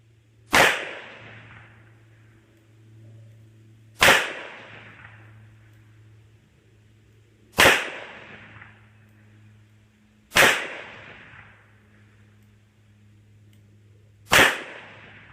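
Ruger Redhawk revolver firing .45 Colt, five loud, sharp single shots spaced about three seconds apart, each with a short ringing tail and quiet in between.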